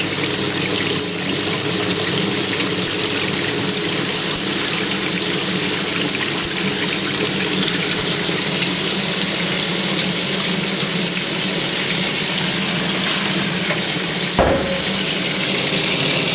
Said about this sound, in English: both of them are filling for the rinses. We've got straight cold water coming in through this one.